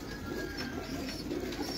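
Pigeons kept by a fancier in Lahore coo steadily, a low murmuring chorus close by with a few faint chirps over the top.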